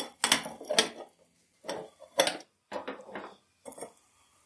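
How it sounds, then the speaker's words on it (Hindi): Metal plate set down on a pan holding an egg patty, ready to flip it: several distinct clinks and scrapes of crockery on cookware, close and fairly loud, in separate bursts with brief pauses between. "अब हम प्लेट रखकर इसको पलट लेंगे।"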